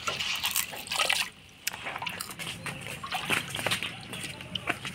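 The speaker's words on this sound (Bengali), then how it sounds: "কচুর পাতাগুলা গোটা গোটাই ধুয়ে নিলাম" Whole taro leaves are washed in water, giving close, repeated splashing and sloshing with drips and a brief pause. A voice is faintly heard beneath.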